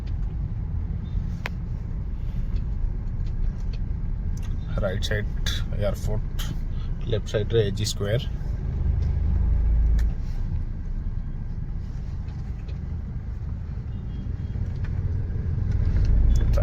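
Road traffic rumbles steadily near the airport in Bhubaneswar, a continuous low drone of passing vehicles with someone talking over it as he rides through.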